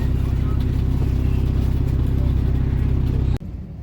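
A Vishwanath bus runs fast on a mountain road in Uttarakhand, giving a loud, steady engine drone heard from inside with a rhythmic low throb, and the sound cuts off abruptly near the end.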